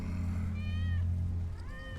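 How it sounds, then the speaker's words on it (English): Wedge's cat in Final Fantasy VII Remake gives two short, clear meows, one after the other, over a low droning game background. "Kitty. That's Wedge's cat."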